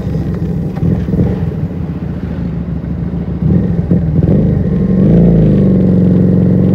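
A Keeway SCR 250V motorcycle fitted with a Mavionic GP6 exhaust rumbles loudly at close range, its engine note rising and thickening partway through as the rider accelerates.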